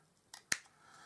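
Scissors trimming a piece of paper while a gift bag is being made: one faint soft snip followed by a sharper, louder single cut, close by and alone.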